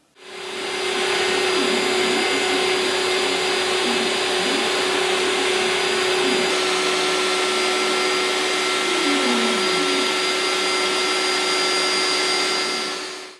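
A CNC router mills a wooden garden stool part with a bullnose cutter, a loud continuous whining roar close by that holds steady for the whole stretch, with shifting tones as the cutter moves through the wood.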